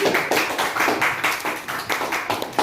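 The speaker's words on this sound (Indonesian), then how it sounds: "Beri tepuk tangan kepada kelompok" A class claps for a group presentation in quick, slightly uneven rhythm, sharp hand claps close by with no talking over them.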